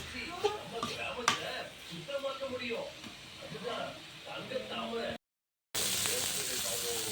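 Sankara fish fries in a pan with a soft, continuous sizzle beneath a person talking, then a brief gap gives way to a louder burst of hissing.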